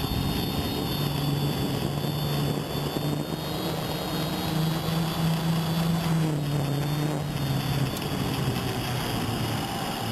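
A DJI Flamewheel multirotor drone with a Naza flight controller flying FPV, a steady high propeller whine and motor buzz that holds constant and fairly loud for the whole stretch, with slight pitch shifts as it manoeuvres.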